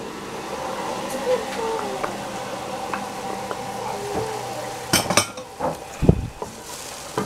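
Potatoes with oregano, white pepper, cumin and pepper paste are stirred in a pot, making soft scraping and a faint sizzle, followed by a few louder clinks of a utensil against the pot near the end.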